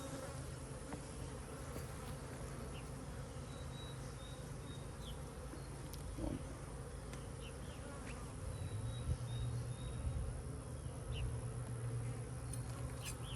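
Dense, continuous buzzing of many honeybees close by in an open hive during an inspection, a steady droning hum that swells slightly toward the end.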